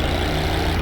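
A quad bike engine in Tomb Raider III drones loudly and steadily in a brief, unbroken burst of engine noise with no voices.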